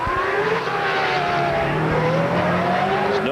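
A Formula 1 car at Monaco skids with squealing tyres near the hairpin before nosing into the barrier, its engine whine and tyre noise loud and continuous throughout.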